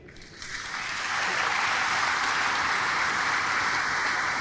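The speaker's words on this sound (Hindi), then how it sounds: "प्रांगण में तालियों की गड़गड़ाहट" Thunderous applause from a crowd in a courtyard honouring a naval officer, swelling quickly to a dense, sustained roar of clapping that holds steady and loud.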